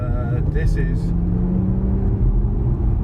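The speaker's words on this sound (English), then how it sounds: "changing down for the corner as I lift off the throttle." An Infiniti Q60S Sport's engine drops in pitch as the driver lifts off the throttle and changes down for a corner, with a steady rumble continuing throughout and a brief higher whine early on.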